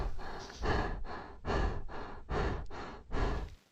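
Heavy, ragged panting from someone who has just run to exhaustion, a run of loud, rhythmic breaths about half a second apart, close and alone with no speech.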